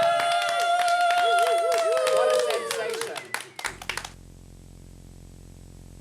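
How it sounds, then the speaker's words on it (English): Clapping from a small audience in an East London club for a performer named Larry T, a burst of sharp, fairly close hand claps that follows a voice over music and then stops abruptly into a low hum. "I think all the girls should give Larry T a big round of applause"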